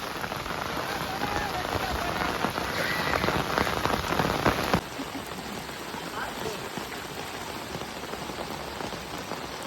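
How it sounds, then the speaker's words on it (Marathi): Steady, heavy monsoon rain pours onto surfaces during a flood in a Konkan village, a dense continuous patter that eases slightly partway through but never stops. "पाऊस पण कमी नाही आहे बघा पाऊस कंटिन्यू चालू असं"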